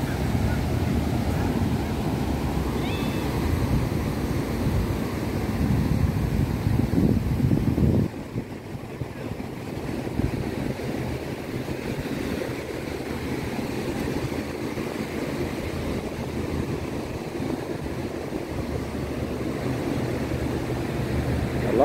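Wind buffets the microphone over the steady wash of waves at Patong Beach, Phuket, with a broad engine-like drone of jet skis running throughout.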